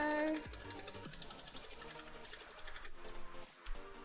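A sewing machine stitches the hem of a cosplay skirt, its rapid mechanical whir running steadily close by with brief pauses and restarts, and a voice speaks now and then over it.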